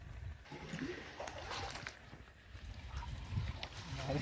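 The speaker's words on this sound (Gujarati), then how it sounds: "પાછું પાણીનો આખો ભરલે છે" Water pours and sloshes into a pesticide spray pump tank on a farm. The flow is a faint, steady rush under quiet talk.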